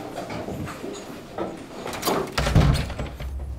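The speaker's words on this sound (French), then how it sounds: "Fermez la porte, s'il vous plaît." A classroom door is pulled shut with one low, solid thump partway through, heard over faint room noise with no talk.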